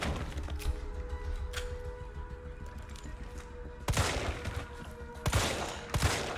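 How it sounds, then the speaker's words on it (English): Burst pistol fire in Resident Evil 3, quick clusters of sharp shots with a few isolated cracks early, then two loud bursts close together near the end over a quiet game background. "Trying to experiment with the burst pistol here to see if it's actually worth anything."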